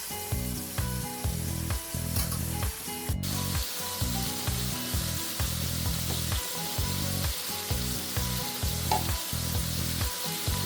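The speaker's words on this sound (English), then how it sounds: "I will carefully turn them over to brown them from all sides." German-style cabbage rolls browning in a frying pan produce a loud, continuous sizzle that pulses in regular surges, close up with no voices.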